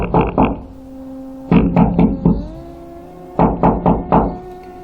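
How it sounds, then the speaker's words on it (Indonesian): Knuckles rap on an old, partly brittle wooden house door in three quick bursts of about four knocks each, close and fairly loud, with a steady sustained musical tone underneath. "Pak Handoko mengetuk pintu rumah Mang Kadir yang terbuat dari kayu itu"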